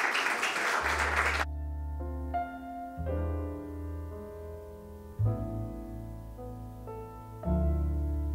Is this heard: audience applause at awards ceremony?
yes